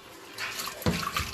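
Water sloshes and splashes in a basin as sea moss is rinsed by hand, a soft wash of running water with a sharper splash partway through, close and alone.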